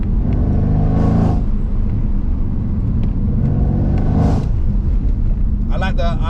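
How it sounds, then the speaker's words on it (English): A loud V8 engine of a modified 2016 Mercedes-AMG C63 (W205) with an upgraded exhaust revs hard twice, deep exhaust roar swelling and falling, close by, with a brief voice at the end. "it really opens that V8 noise up"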